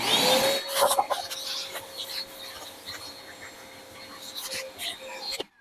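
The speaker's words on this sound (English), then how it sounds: "I'm going to take my shop vac and I'm going to clean up a little bit of mess here" A shop vac sucks up spilled gunpowder on a reloading bench. Its motor spins up to a steady whining hum under a rushing airflow, with scattered clicks and rattles as debris is drawn in.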